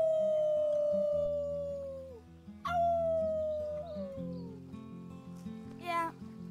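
In the Life is Strange 2 video game, characters howl like wolves, imitating the sound with long, falling voiced howls. Two main howls come over a steady game music bed, and a short rising yelp follows at the end.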